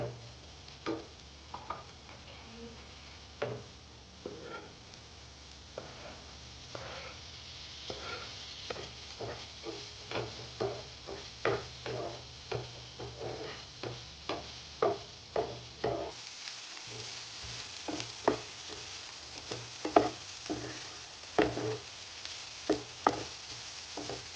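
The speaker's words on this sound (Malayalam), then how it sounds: "അരിഞ്ഞ് വെച്ച തക്കാളിയും പച്ചമുളകും ഇട്ട് കൊടുക്കുകയാണ്" Chopped tomatoes and green chillies go into a pan for a prawn roast, giving a soft, steady sizzle broken by frequent light scrapes and taps of a spoon against the pan.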